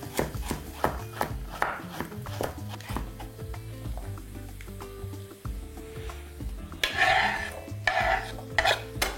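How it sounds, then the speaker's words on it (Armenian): A knife cuts a small carrot into half-rings on a board, a run of close, rhythmic taps and thuds, then a louder burst of sharper clattering knocks near the end, with no talk. "Կիսում ենք մեջտեղից և կտրատում կիսաօղակների։"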